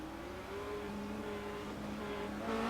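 Race car engine droning steadily on pit road in the iRacing game at Silverstone, a sustained tonal hum that rises slightly in pitch toward the end, no voices.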